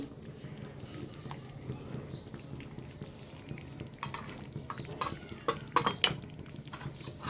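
A metal spoon stirs shinni khichuri in a cooking pot after roasted cumin powder goes in, with scraping and clinking against the pot that grows louder and sharper toward the end, over a steady low background.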